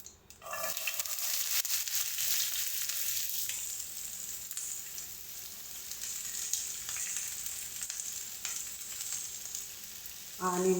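Onion and green chili hit hot oil in a pan for paneer bhurji, a loud steady sizzle of frying that runs nearly unbroken, with a brief stir clatter near the end.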